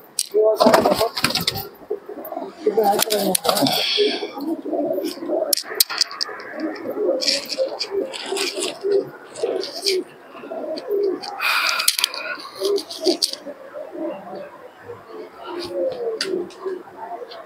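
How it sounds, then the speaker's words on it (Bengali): Giribaz pigeons coo in soft, repeated low burbles at close range, with occasional wing flaps and clatters, under frequent conversation throughout. "বেরোবাজ পায়রা"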